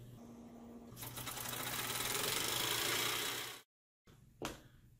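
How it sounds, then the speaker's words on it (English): A small model steam engine runs in a physics lecture demonstration, giving a dense, fast, buzzing mechanical rattle that swells and holds for a few seconds before cutting off abruptly, followed by a brief knock. "This model steam engine."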